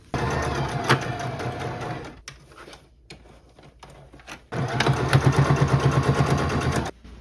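Sewing machine stitching a skirt: two bursts of fast, rhythmic motor-driven clatter, loud and close, separated by a short quieter pause.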